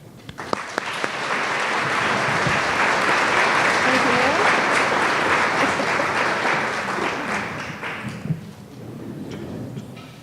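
An audience breaks into sustained, loud applause that welcomes Sister Nuala at a workshop. The clapping is dense and crowd-wide, builds quickly, holds for several seconds and then tapers off near the end.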